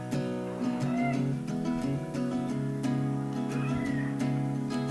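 A cat meows several times, each cry rising and falling, over a steady tonal background.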